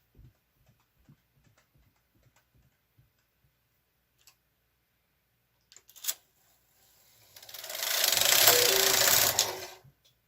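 A Brother KH-230 knitting machine carriage sweeps across a row, a sustained loud whirring rasp of a few seconds after faint scattered ticks and a brief clack, then stopping.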